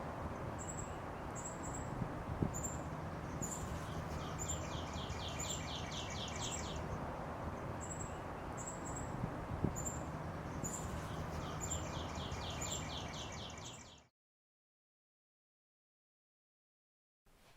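Outdoor birdsong with cardinals and warblers among the likely callers: repeated high chirps and short whistled phrases at a steady moderate distance over a soft continuous ambient hiss, ending abruptly in silence.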